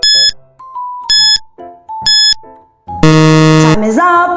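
A quiz countdown timer plays loud electronic chime tones: three short bell-like dings with a held tone between them, then a sustained buzzer-like blare near the end.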